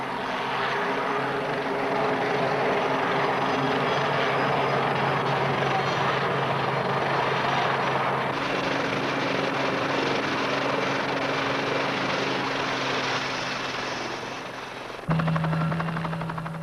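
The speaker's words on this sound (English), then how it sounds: "The helicopters that operate from Broadsword are the Lynx, the best deck landing helicopter in service in any navy today." A Royal Navy Lynx helicopter flies with a continuous whirring rotor and engine roar, steady and fairly loud, alone without talk, changing tone near the end.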